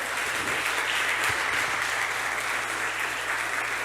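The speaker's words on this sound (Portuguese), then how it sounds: "pode aplaudir ao Senhor." A church congregation applauding the Lord at a Portuguese-language service, a full, even roar of clapping hands filling the space, with a low steady hum beneath it.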